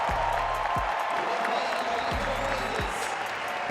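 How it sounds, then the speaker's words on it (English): Packed stadium crowd at the athletics World Championships relay finals roars steadily, a dense continuous cheer with low thumps underneath, distant and broad. "Big cheer from this packed house"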